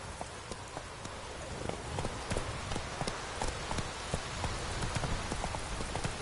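Roach, a horse in The Witcher 3, galloping with quick repeated hoof clops over a constant hiss of rain, the hoofbeats fairly close and distinct above the wet background.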